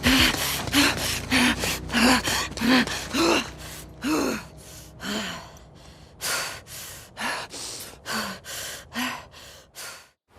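Character's heavy, ragged breathing in the video game The Last of Us, a rapid series of sharp gasps and exhales, loud and close, gradually slowing and softening.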